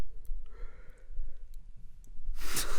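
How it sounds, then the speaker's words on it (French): Someone yawns with a long, breathy exhale that swells loudly near the end, after quiet breathing and a few faint clicks in an otherwise calm room. "On a chacun baillé."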